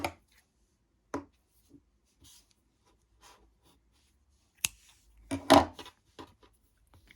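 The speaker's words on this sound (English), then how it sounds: "now we're gonna cut our yarn." Scissors snip crochet yarn in a few sharp, separate clicks and cuts spread across quiet pauses, with small handling rustles between them and no talk.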